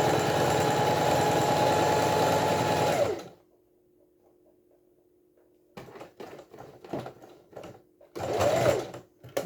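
Sewing machine stitching quilt tumbling blocks for a Y-seam, running loud and steady for about three seconds, then going quiet before a few short clicks and one brief final burst of stitching.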